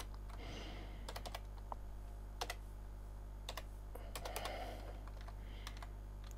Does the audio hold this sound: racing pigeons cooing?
no